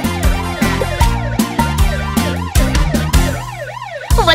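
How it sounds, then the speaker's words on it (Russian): A loud wailing police car siren in a children's cartoon sweeps rapidly up and down in repeated cycles, close and continuous. "Полицейская машина."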